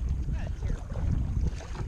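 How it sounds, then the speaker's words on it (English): Wind buffets a small fishing boat out on the water near Rockport, Texas, a steady low rumbling roar of gusts against the microphone with no clear voices. "You probably won't be able to hear anything because the wind's blowing"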